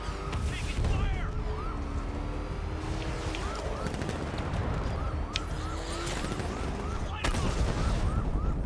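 Gunfire in a Batman video game, with repeated shots and impacts mixed into busy combat sounds and faint voices underneath.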